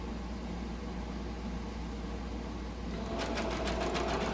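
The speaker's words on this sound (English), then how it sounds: "So I'm just sewing it." Steady low hum of a sewing machine stitching a polyester face mask tube, then a quick, even stitching rhythm starting near the end, close and fairly quiet.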